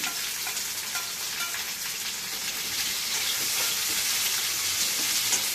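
Brinjal sizzles and fries in a pan as it is sautéed for a chutney, a steady close crackling hiss with faint stirring, heard on its own without talk.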